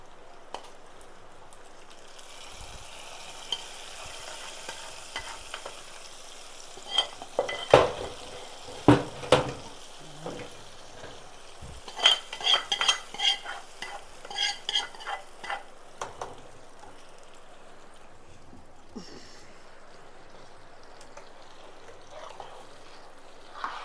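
A tempering is poured into temple-style katte pongali in a pan and stirred in, with bursts of spoon scraping and clattering against the metal over a faint background sizzle, quiet before and after.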